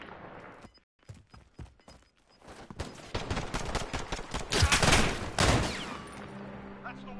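A light machine gun in a video game rattles off sharp bursts, first sparse single shots and then a dense, loud sustained volley, close and dominant, with brief talk in the background.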